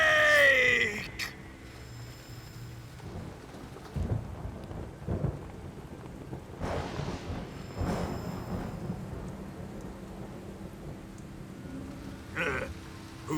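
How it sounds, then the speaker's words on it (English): Thunder in the video game Metal Gear Solid 3 rumbles over steady rain, with several loud, rolling cracks spread through the stretch and a sharp burst near the end. "Who's afraid of a little thunder?"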